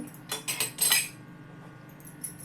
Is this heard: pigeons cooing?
no